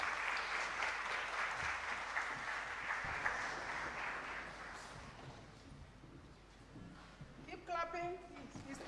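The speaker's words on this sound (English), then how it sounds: "Keep clapping." An audience applauds the arrival of Kenya's Deputy President Kindiki, sustained clapping that gradually thins and fades, with a voice speaking briefly near the end.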